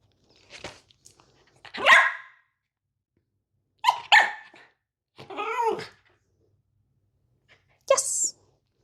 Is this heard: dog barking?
yes